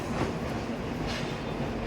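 The Shaktipunj Express rolls into Asansol Junction with a continuous rumbling roar and a faint rhythmic clatter of wheels, heard from on board.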